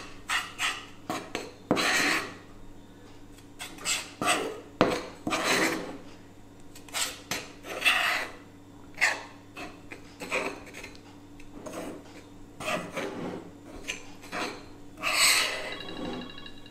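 Icing sugar being stirred into egg white for a biscuit glaze: a bowl gives repeated scraping, clinking strokes in an irregular rhythm, close and fairly quiet.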